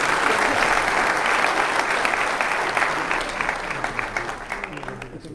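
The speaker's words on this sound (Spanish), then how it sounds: "Un aplauso a la hermana." An audience at a talk by a Catholic priest breaks into applause. The dense clapping starts loud and gradually thins and fades over about five seconds, with voices murmuring underneath.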